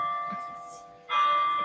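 Mission church bell ringing, a clear metallic tone that rings and fades, then strikes again more loudly partway through the short stretch.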